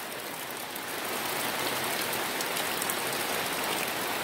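Steady rain falls outside a camper van at Bass Lake in Michigan's Upper Peninsula, a dense, even hiss that holds without a break and with no voices.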